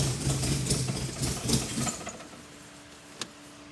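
A freshly rebuilt car engine idles steadily up close, its uneven low chug fading toward a quieter, smoother idle partway through, with a single sharp tick near the end.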